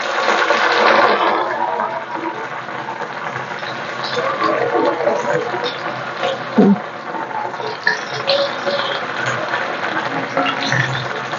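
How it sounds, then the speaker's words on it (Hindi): Cauliflower pakora fritters sizzle in hot oil in a home kitchen, a steady crackling hiss that is loudest at the start and continues with small pops and clatters throughout. "तेल हमारा क्योंकि गर्म हो चुका था, हमने सोचा पहले गोभी को डालते हैं"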